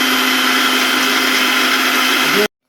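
A mixer grinder whirs loud and close while grinding paste for a raw mango curry, a steady high motor drone that stops abruptly.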